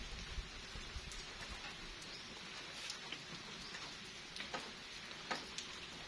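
Rain falls on a rice field during a storm, a soft, constant patter with scattered sharper drop ticks. It stays faint and alone, with no voices.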